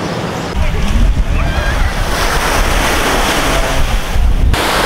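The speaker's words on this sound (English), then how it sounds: "so me and Leia just got to the world famous Waikiki Beach" Surf and gusty wind on crowded Waikiki Beach, Oahu, a loud steady wash of breaking waves with heavy wind buffeting the microphone, no clear talk.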